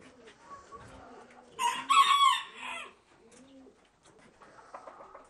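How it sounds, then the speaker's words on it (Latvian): Padovana chickens and roosters in a poultry yard, a loud crowing burst rising in the middle over ongoing clucking and chattering birds at close range. "Te ir paduānas."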